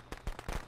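Firecrackers popping in a basketball video game, a few sharp bursts clustered within under a second, moderately loud with a slight rumble, no talking.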